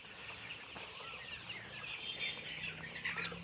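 Sonali hybrid chickens in a littered poultry shed keep up a dense, steady chorus of clucks and chirpy calls that carries on without a break.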